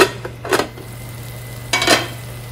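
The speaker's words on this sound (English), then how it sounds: "Put a lid on." Lid set onto a pot of chicken curry in a restaurant kitchen, two short metallic clatters about a second apart over a steady low hum.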